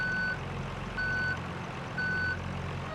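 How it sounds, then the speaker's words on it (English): A truck's reversing alarm in BeamNG Drive beeps three times at a slow, even rhythm, each tone clear and steady over a low idling engine rumble, with no talk. "reverse beeps,"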